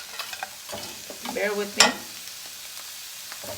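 Food frying in a pan is tossed, giving a clattering, sizzling burst of scraping and stirring up close, with a brief spoken comment partway through.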